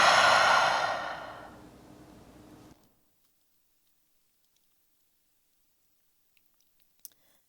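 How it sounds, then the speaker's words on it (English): A long, breathy exhale through the mouth during a recovery yoga flow, loud and close at first, then tapering off over about three seconds into near silence. "Exhale through the mouth."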